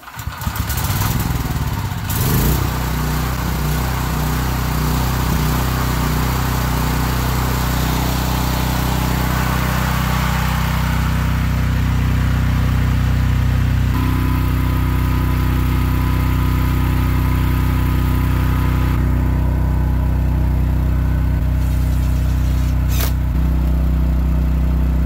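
A petrol generator runs steadily inside a quiet box enclosure. A loud, close, droning engine hum goes on for the whole stretch, with a brief surge near the start and small shifts in tone later.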